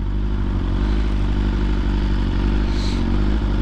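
A 1000cc motorcycle engine under way on the road, a loud, dense, steady drone with a low throb and wind rush, heard close and without speech.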